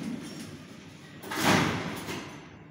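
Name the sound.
elevator doors closing, Waygood Otis lift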